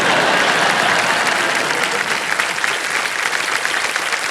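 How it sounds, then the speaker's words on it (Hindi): A studio audience claps steadily through a KBC game show taping, a dense, loud wash of applause that holds evenly from start to end. "जितने पुरुष बैठे हैं सबसे पहले उन्होंने ताली बजाई।"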